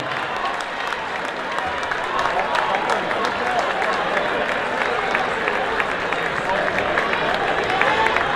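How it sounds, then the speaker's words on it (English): Basketball fans in a high school gym between games of Bloom versus Evanston applaud both teams, dense sustained clapping mixed with crowd chatter, loud and continuous throughout. "Fans, let's give these teams a good round of applause for a great game."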